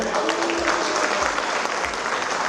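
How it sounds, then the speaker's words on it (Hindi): An audience at a Hindi-Urdu poetry recital (kavi sammelan) claps in a dense, sustained burst of applause, loud and even from start to finish with no pauses. "आपके बाद जोरदार तालियां होंगी।"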